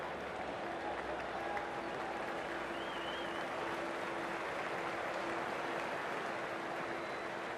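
Crowd applause after a six is struck in the Cricket 24 video game during an India vs Sri Lanka warm-up match, a continuous dense clapping wash at moderate level throughout, with a faint high whistle or cheer drifting over it.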